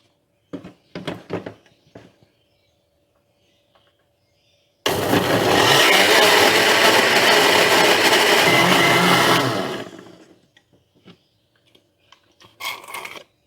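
An electric blender grinds spice paste for milkfish otak-otak, a loud continuous whirring roar for about five seconds that winds down, framed by clattering kitchen handling noises before and after.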